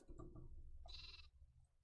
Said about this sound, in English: These are your common sheep.